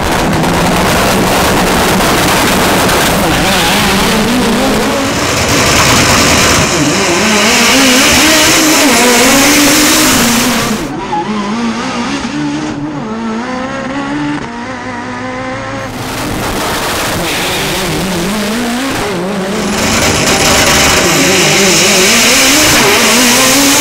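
A new Volkswagen Gol 4x4 engine revs loudly and close while driving, its pitch climbing and dropping through repeated accelerations and gear changes, with a brief quieter stretch in the middle and no talking.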